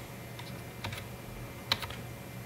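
A few faint, scattered key presses on a Roccat Horde membrane keyboard make soft clicks, heard close against quiet room hiss.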